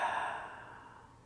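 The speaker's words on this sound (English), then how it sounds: "And a breath out the mouth." A soft, airy exhale is pushed out through the mouth during a gentle yoga session done in bed. It is a single steady breath that fades over about a second in a quiet room.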